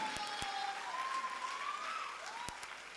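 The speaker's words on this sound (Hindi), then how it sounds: "इनके लिए जबरदस्त ताली बजाइए सर।" Audience applause at a business seminar for a direct-selling company, steady dense clapping from a crowd filling the whole stretch at an even level, with a faint whistle-like tone running beneath.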